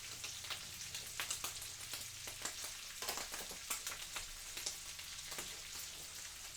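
Grease sizzling in a frying pan during home cooking, a steady crackle with scattered sharp pops, heard close and at moderate level with no talking.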